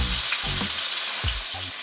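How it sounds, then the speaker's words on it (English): Pork chops sizzle and fry steadily in a pan, a loud close hiss with faint bumps as they shift, no voices. "Go ahead and turn them over and cook them on the other side for the other 5 to 7 minutes."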